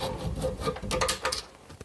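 A screwdriver scrapes old gasket rope and glue out of a wood stove, producing close, irregular rasping and scratchy strokes with small clicks, alone and fairly quiet.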